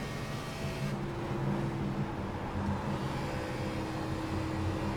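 A NASCAR Xfinity car engine drones steadily at Dover in the iRacing simulator, a loud, continuous motor roar with little change in pitch.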